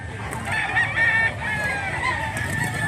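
A rooster crows repeatedly at a rural Cebu farm with a bullstag for sale, the calls close and fairly loud over steady outdoor background noise and without talk.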